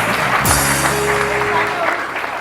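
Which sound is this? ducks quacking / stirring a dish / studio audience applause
studio audience applause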